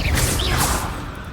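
A Confringo spell is cast in Hogwarts Legacy, a loud whooshing blast with crackling magical swirls that fades quickly, heard on its own.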